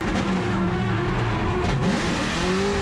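A car drifts in the video game CarX Drift Racing 2, its engine droning and revving continuously with shifting pitch alongside tire noise, loud and steady throughout.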